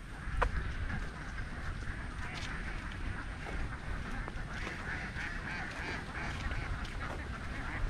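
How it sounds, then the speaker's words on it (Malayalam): Many ducks quacking on the Kadambrayar river bank, a dense overlapping chorus of calls that goes on without a break at moderate distance. "ഇഷ്ടംപോലെ താറാവുണ്ട് കേട്ടോ ഇവിടെ."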